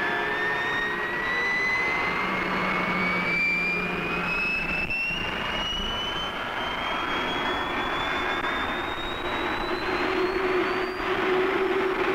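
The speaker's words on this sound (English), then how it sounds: "The jet starter is now inserted into the aircraft and the flight line becomes alive with the sound of jets" A-4D Skyhawk jet engines spool up on a flight line with a rising whine that climbs steadily in pitch over a constant roaring rumble, loud and sustained throughout.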